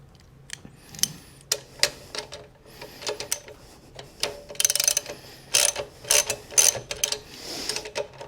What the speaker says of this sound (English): just tighten up the brake drum